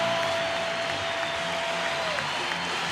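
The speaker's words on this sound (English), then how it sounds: "The crowd getting up for their big moment that they hope the Lakers can come back here" A basketball arena crowd roars steadily during the Lakers vs Pistons 1989 NBA Finals Game 3. The cheering is a dense, continuous wash of noise with a faint sustained tone running through it.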